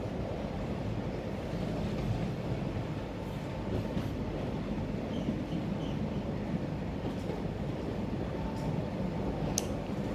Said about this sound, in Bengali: এই দেখুন, একটা টানেল পার হচ্ছি।